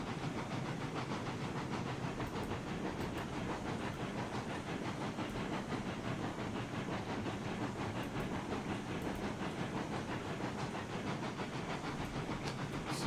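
Locomotive in the railroad game RailRoads Online rolling steadily along the rails, a dense continuous rumble and hiss with faint rhythmic clicks from the wheels, loud and unbroken with no talking.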